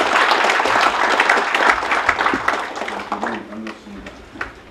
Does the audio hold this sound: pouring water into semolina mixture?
no